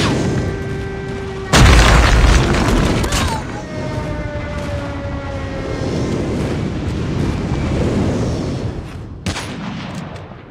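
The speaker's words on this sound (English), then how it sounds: "Friendly airstrike incoming." Heavy airstrike explosions and booming blasts from Call of Duty Mobile frontline-mode combat, a loud sudden impact followed by sustained rumbling and scattered gunfire, with a second sharp blast near the end.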